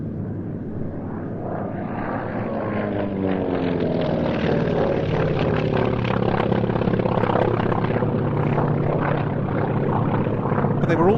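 A Grumman Wildcat fighter flies past at the Duxford air show, its propeller engine a steady, loud drone that shifts pitch as it passes, with a commentator talking over it throughout.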